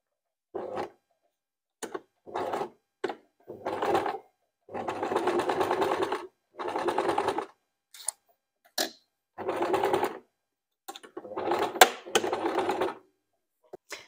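Sewing machine stitching fabric for a shoulder bag, running in a series of short and longer bursts separated by pauses, each a close rapid needle chatter, with occasional clicks between runs.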